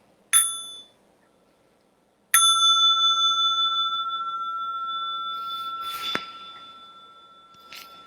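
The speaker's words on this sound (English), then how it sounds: "I'm going to invite the small bell for stretching and massage." A small meditation bell is struck twice during a sitting and moving meditation practice, each strike giving a clear, bright ring with a lingering tone, the second decaying slowly over several seconds in a quiet room, with a soft knock near the end.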